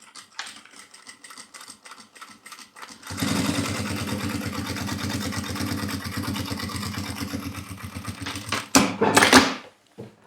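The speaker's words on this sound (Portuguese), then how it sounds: "Então já vamos fazer o pesponto aqui," A sewing machine topstitching a fabric case runs in one steady, fast, rattling burst for several seconds. It follows a few quiet handling clicks and ends with a short louder whirr, with no talking.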